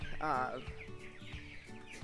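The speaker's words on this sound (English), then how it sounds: "Now we still have these 4 laying hens." Hens cluck softly in short, repeated bursts, close by and fairly quiet, with faint background noise between calls.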